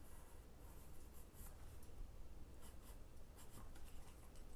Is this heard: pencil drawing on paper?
yes